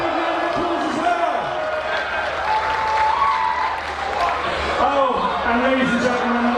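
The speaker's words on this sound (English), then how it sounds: "Please give Scott a big round of applause as well." A crowd applauding and cheering a chilli eating contestant at the Silverstone F1 Grand Prix, loud sustained clapping throughout while an announcer speaks over it through the sound system.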